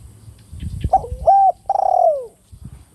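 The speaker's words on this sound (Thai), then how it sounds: "เสียงขันโยนของเจ้านกฟึกครับผม" A dove gives a short series of soft, hollow coos, close and clear, against a quiet background.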